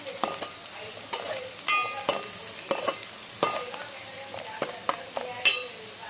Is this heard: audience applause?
no